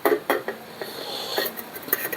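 Pots and dishes left out in a home courtyard being handled, giving a handful of short metallic clinks and clatters close by, with no talk.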